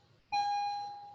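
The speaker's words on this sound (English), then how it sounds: "Pay no attention to the bell." A school bell in a classroom sounds as a single sudden electronic tone, starting abruptly and holding steadily while slowly fading, moderately loud against quiet room noise.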